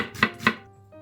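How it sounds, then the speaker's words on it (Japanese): Two crisp knife chops on a cutting board, mincing condiment herbs, evenly spaced, close and clear, followed by a faint clink. "あとは端から3から5ミリ幅で切っていけばみじん切りの完成です"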